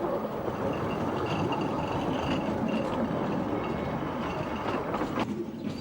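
A 1950s narrow gauge locomotive runs along the rails, giving a steady, fairly loud rumbling roar with faint rhythmic rail clatter throughout.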